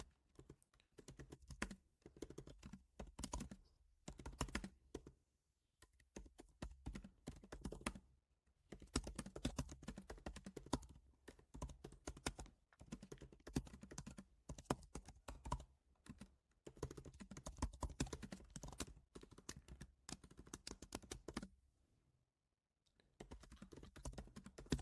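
Steady bursts of typing on a computer keyboard, close and clear, with short pauses between runs of keystrokes and no talking.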